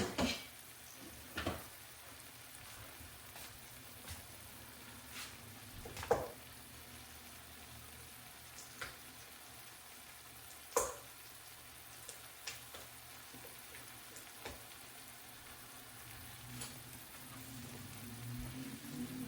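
Diced onions frying in a small amount of butter give a soft, steady sizzle and faint crackle throughout, with a few louder clinks and pops at intervals and no talk.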